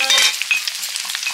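Garlic sizzling in hot oil in a wok, a soft, steady frying hiss with small crackles, close by and alone.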